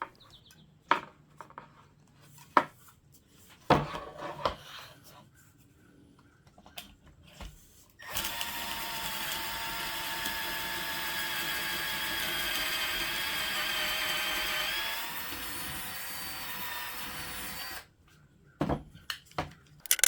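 Pocket holes drilled with a drill and a Kreg single pocket hole jig, a steady whining bore lasting about ten seconds between scattered clicks and knocks of clamping and handling, close and moderately loud.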